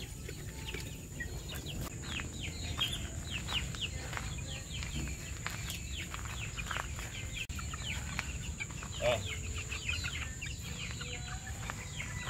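Several chickens and chicks cluck and chatter at a moderate distance, with scattered bursts over a constant low background hum, in the morning.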